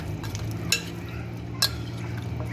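Chicken marinade being mixed, soft wet stirring with two sharper clicks of a utensil against the bowl, faint and close, no talking.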